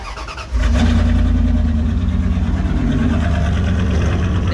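A lifted second-generation Ram pickup with a worn exhaust cranks briefly, then its engine catches and settles into a loud, rough, steady idle close by.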